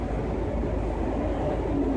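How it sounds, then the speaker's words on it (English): Rumbling interior of a moving Orange Line metro train bound for New Carrollton, a steady low roar of wheels and car noise throughout without speech. "This is an Orange Line train to New Carrollton."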